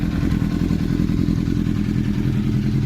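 A 2004 Honda CBR1000RR engine idles up close after an idle control valve repair, a loud, steady low-pitched burble with fast, even firing pulses and no change in revs, with no talking.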